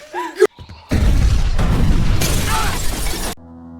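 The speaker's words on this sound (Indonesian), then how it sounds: "tiba-tiba terjadi sebuah ledakan" A van blows up in a film: a loud sudden boom with shattering debris that roars and rumbles for a couple of seconds, then cuts off abruptly into quiet music.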